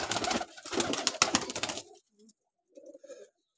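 Pigeons cooing among a flock of about forty, first a busy dense stretch of overlapping calls, then a short pause and a couple of soft, low coos close by.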